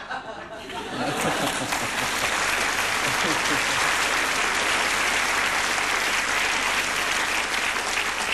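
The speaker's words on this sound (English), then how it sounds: "What are you applauding for?" A television interview studio audience bursts into loud, sustained applause that swells within the first second and holds steady, with some laughter and chatter mixed in.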